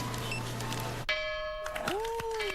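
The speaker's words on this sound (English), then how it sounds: "we'll ring this bell here to celebrate" A big red bell rung once to celebrate a sale, giving a single bright clang with long ringing overtones that fade slowly, close and clear, with brief voices before and after.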